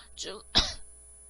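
A single short, harsh cough from a man lecturing in Korean bursts out close by after a brief voiced sound, followed by quiet.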